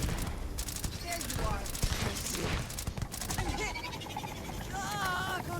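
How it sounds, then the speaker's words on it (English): Gunfire from a weapon in the space game Starfield, a dense string of shots running under a busy game mix with talk over it. "Oh, sorry, I shot you with this gun."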